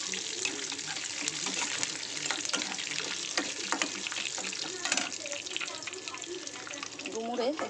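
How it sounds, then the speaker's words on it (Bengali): Bay leaves and cumin seeds crackle in hot oil in a wok, a steady broadband sizzle with scattered pops running throughout, moderately loud and close, under faint kitchen background noise. "কড়াই দিয়ে দিয়েছি তেল, দিয়ে দেবো তেজপাতা আর সাদা জিরে ফোড়ন"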